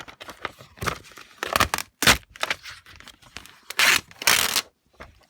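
Laminated die-cut paper sheet being pulled apart up close, a series of irregular tearing and crinkling bursts separated by short pauses.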